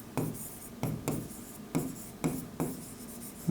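A pen writes accounting entries by hand on paper in short scratchy strokes, about six bursts with brief pauses between them, close and clear.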